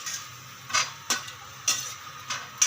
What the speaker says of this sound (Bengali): তেল গরম হয়ে গেছে, এবার দিয়ে দেবো। অল্প আঁচে লাল করে ভেজে নেব